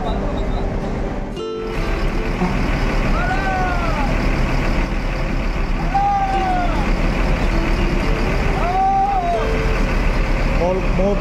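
Intercity bus edging through congested traffic past haphazardly parked cars during the Eid homecoming rush, with a steady engine rumble, hiss bursts and repeated rising tonal horn or beep calls, and people talking over it.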